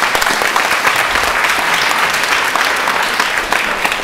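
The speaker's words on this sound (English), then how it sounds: "let's give them a hand of applause" An audience at a town proclamation ceremony claps steadily, a loud, dense and sustained round of applause filling the whole moment without any speech.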